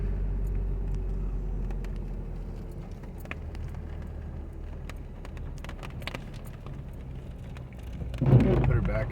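A vehicle crawls in first gear through December snow over rough wooded ground, its low steady engine rumble continuous throughout, with scattered crunches and a louder surge near the end.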